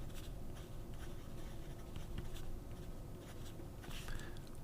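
Montblanc 149 fountain pen with a medium nib writing on paper, a faint close scratchy stroking in short irregular bursts.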